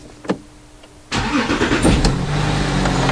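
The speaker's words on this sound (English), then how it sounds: "Let me start the engine." An Audi Q7 diesel engine, just repaired after a rough-running fault from a bad fuel injector, cranks briefly and catches, then settles into a loud, steady, close-up idle rumble.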